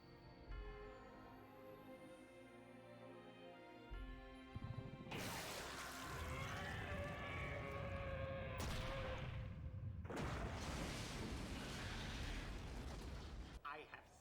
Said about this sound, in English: causing one last explosion.